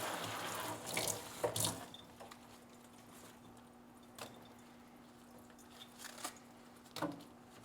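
Rooted plant cuttings rinsed under a running kitchen tap: water splashes and squishes in a few bursts early on, then a quieter steady trickle follows, broken by occasional drips and splatters.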